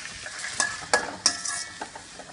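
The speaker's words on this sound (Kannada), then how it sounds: "ಟೊಮೆಟೊ ಹಾಕಿದ ಮೇಲೆ ನೀವು ಸ್ವಲ್ಪ ಹೈ ಫ್ಲೇಮ್ನಲ್ಲಿ ಅದನ್ನು ಫ್ರೈ ಮಾಡಿ" Onion and tomato frying in a pan for cabbage Manchurian, a steady hiss with a few sharp scraping stirs spaced through the short stretch, close and moderately loud, no voices.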